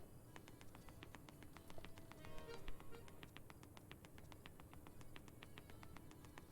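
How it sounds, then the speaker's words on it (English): Crickets chirp in fast, steady, evenly spaced pulses as a faint nighttime ambience in the Sonic 06 video game, quiet and continuous with no voices. "All you hear is like crickets and then like the occasional like bits of music."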